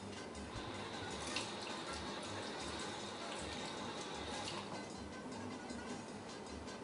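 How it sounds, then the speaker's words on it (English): Hands rinsed under a running kitchen tap, a steady close wash of water that holds for the whole stretch without breaks, faint and even, with no talking over it. "I'm going to give my hands a quick rinse."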